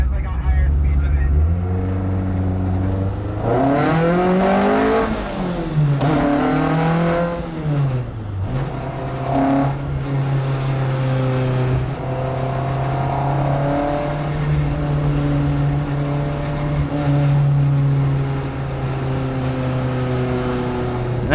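A 1991 Honda Civic EF hatchback engine revs up and down while driving, with rising and falling pitch sweeps early on settling into a steady drone, loud and close, with people talking over it.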